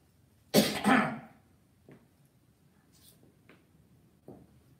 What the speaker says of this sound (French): excusez-moi, je voulais tousser.